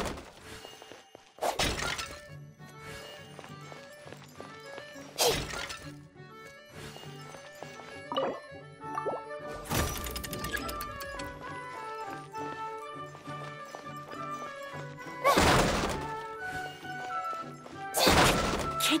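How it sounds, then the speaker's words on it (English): Wooden boxes smashed and broken apart in the Genshin Impact video game, several loud crashing bursts spaced out over game music, with no talk. "Can't you destroy the boxes a little more quietly?"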